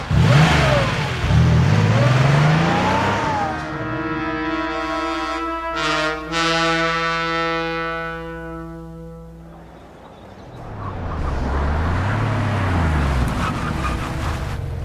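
A car engine revs hard, climbs in pitch through a long acceleration, then pulls away and fades before a second surge of engine noise close by.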